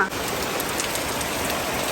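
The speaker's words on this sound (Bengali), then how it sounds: "জোরে জোরে বৃষ্টি হচ্ছে" Heavy rain pours down steadily, a dense, loud hiss of drops drumming on surfaces without letup.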